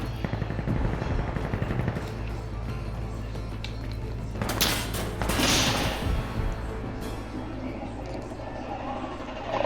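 Gunfire in the video game Insurgency: Sandstorm, a run of sharp rapid shots with a louder burst near the middle, alone with no talk.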